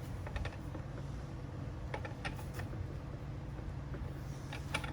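A bolt on a manual ATV tire changer is turned down to press the claw against the tire bead, giving faint, close creaks and small clicking ratchet-like mechanical sounds.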